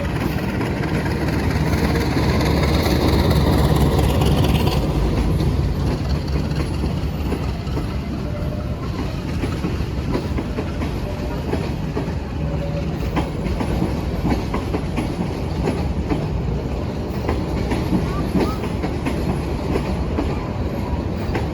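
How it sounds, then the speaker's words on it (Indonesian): The Pasundan Selatan passenger train pulls out of Bandung station, its engine rumbling loudly before rhythmic clickety-clack of wagons over rail joints builds and continues steadily, close by with no talk. "kereta api Parsel Selatan berangkat stasiun Bandung menuju Surabaya Kota."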